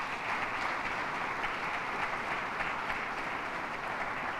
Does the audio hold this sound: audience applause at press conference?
yes